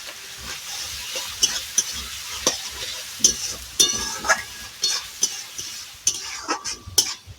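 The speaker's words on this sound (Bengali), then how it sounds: "এই যে দুটো টমেটো কেটে রেখেছিলাম এগুলো দিয়ে দিচ্ছি টমেটোটা যাতে সুন্দরভাবে গলে যায়" Chopped tomatoes and salt cook in a pan over a clay stove, with a steady frying hiss and repeated metal scrapes and clinks from stirring, close and fairly loud.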